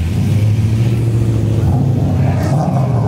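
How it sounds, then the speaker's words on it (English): Dodge Hellcat cars revving and doing burnouts at a crowded street car meet, a constant loud low engine rumble and roar sustained throughout with a faint higher whine near the end. "You got Hellcats putting through doing burnouts."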